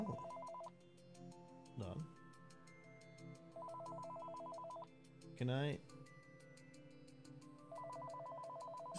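A repeating electronic phone ring trills in regular bursts inside the VR game Did I Survive Accounting, with a speaking voice briefly cutting in between rings.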